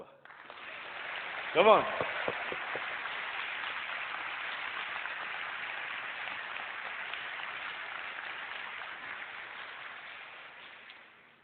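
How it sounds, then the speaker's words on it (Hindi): A church convention audience claps together in a steady, broad wash of applause that runs for about ten seconds, with a brief voice over it near the start before the clapping fades out. "चलिए अब एक ताली उसके लिए बजाएं जो मुर्दों से जिंदा हुआ।"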